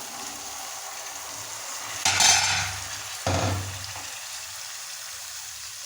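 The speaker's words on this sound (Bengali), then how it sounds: "এখন সিম আর আলু দিয়ে নেড়ে চেড়ে দিচ্ছি, মশলার মধ্যে মিশিয়ে নিচ্ছি" Flat beans and potatoes get stirred into masala in a pan: two short bursts of scraping and sizzling over a quiet background, with no voices.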